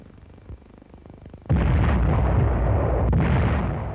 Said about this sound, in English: U.S. artillery pounded Tinian, 3 miles distant.